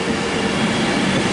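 A Class 390 Pendolino, unit 390-044, rumbles loudly and continuously through Stockport station, a broad steady roar of wheels and running gear with no talk over it.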